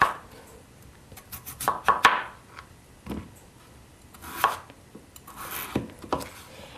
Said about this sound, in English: Now we're gonna cut it.